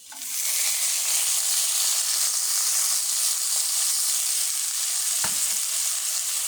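Dried fish (shutki) fries over onions in a pan with a loud, continuous hissing sizzle close by, steady throughout apart from one brief utensil tap near the end.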